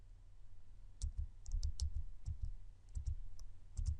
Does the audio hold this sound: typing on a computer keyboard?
yes